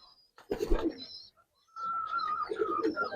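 Giribaz pigeons in a loft give soft, close coos: one brief burst, a pause, then a longer throaty cooing phrase.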